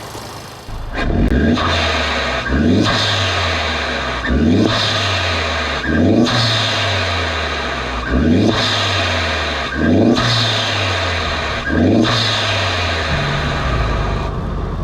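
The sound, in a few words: car engine revving at idle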